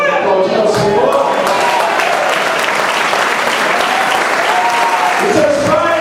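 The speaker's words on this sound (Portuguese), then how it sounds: "Aplaudir ao Senhor." Loud, dense applause from a church congregation, sustained and evenly thick for several seconds, close and enveloping, with occasional voices rising through the clapping.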